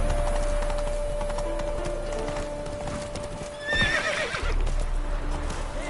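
Horse Roach in The Witcher 3, galloping hoofbeats in a quick rhythm, then a loud close neigh and whinny partway through before the gallop resumes.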